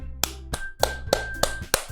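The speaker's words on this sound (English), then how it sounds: "It's up to me to save this situation. I am the first to start applauding." Sparse clapping in the visual novel game Doki Doki Literature Club: six distinct, evenly spaced claps over a steady soft music tone, close and moderately loud.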